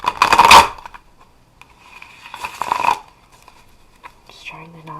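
Tarot cards are riffled in two quick, crisp bursts close by, with quiet rustling between and a brief voice at the end.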